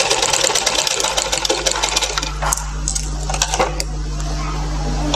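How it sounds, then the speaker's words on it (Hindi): A sewing machine runs steadily, stitching a second seam over an inner seam on baby cap fabric. It starts with a fast busy rattle, then settles into a smoother hum, with a few light metallic clicks in the middle. "उसके ऊपर रख के हम दूसरी सिलाई डाल देते हैं"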